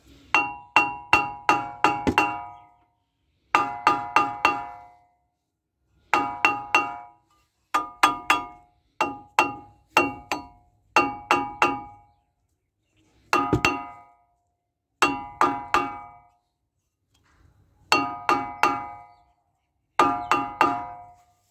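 A hammer taps on a brake disc to free it from the hub, giving ringing metallic clinks in quick groups of three to five strikes, repeated about every two seconds with short silent gaps, close and clear.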